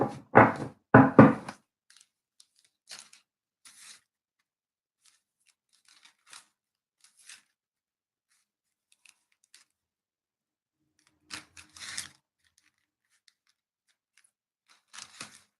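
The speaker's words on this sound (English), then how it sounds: "I'm gonna shuffle some of my Angel of Atlantis cards." Angel of Atlantis oracle cards being shuffled: two quick riffling bursts at the start, then sparse soft taps and card flicks, with another brief shuffle later, all quiet and close with long silences between.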